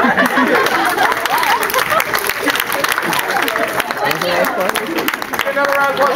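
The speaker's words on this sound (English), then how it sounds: "Another round of applause for Sarah" An improv show audience applauds and cheers a performer, a loud, busy wash of clapping mixed with crowd chatter, laughter and voices on top throughout.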